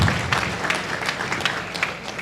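A crowd applauds, dense and steady clapping from many hands throughout.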